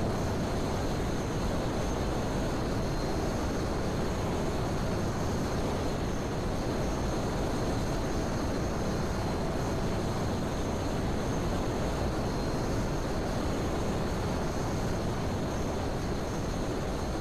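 A steady, loud propeller-plane engine drone from a flying video game runs unbroken and close throughout, with a constant roar and no voices.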